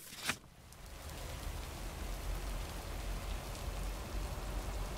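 Steady rain in the video game Lake patters continuously at a soft, even level, with a brief rustle near the start.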